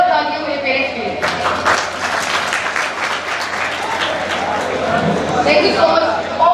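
Seminar audience applauding for the speaker's parents, a dense burst of clapping from a crowd that rises sharply and holds steady for several seconds, with voices around it.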